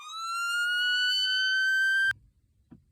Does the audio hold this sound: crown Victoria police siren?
yes